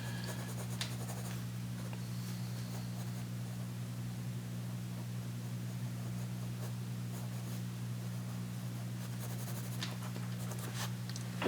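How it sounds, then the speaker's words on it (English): Pencil scratches softly and steadily across a sketchbook page in short strokes, faint and close, over a constant low electrical hum. "I'm just really doing a basic sketch here."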